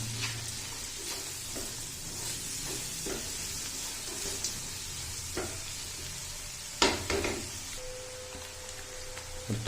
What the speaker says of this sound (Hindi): इसको अच्छे से लाइट ब्राउन करना है हमने। प्याज को आपने साथ साथ हिलाते ज़रूर रहना है।